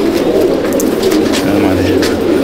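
A group of Madrasi pigeons coos close by, low throaty calls overlapping into a continuous warbling drone.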